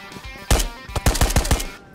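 Gunfire in the video game Ghosts of Tabor: a loud, close burst of several sharp rapid shots followed by a quick string of about five more cracks, all within two seconds, with no talking.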